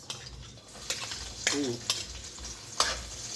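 Onion goes into a pan of frying garlic for pancit bihon with chicken, giving a soft sizzle broken by a few sharp clinks and scrapes of a utensil against the pan, close and fairly quiet.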